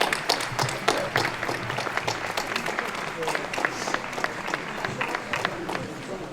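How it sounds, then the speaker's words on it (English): Sustained applause from an outdoor concert audience for a community band, dense clapping that holds steady throughout with a few sharper claps standing out. "I could hear you applauding"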